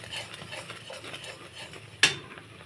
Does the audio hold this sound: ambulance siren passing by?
no